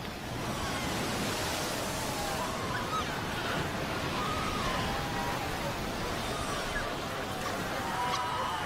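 Ocean waves crash steadily onto a shore where seal pups lie, a loud continuous roar of surf and churning water with faint higher cries that could be the pups, and no talk.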